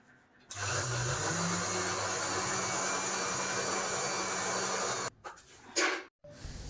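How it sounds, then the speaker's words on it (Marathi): A sewing machine stitches two side pieces of fabric together for a decorative stool cover. A steady close whir runs for about four and a half seconds, then stops, followed by a few short bursts. "इथे हे दोघं साईडचं कापड आपण जॉईन करून घेणार आहोत आणि शिवून घेऊया"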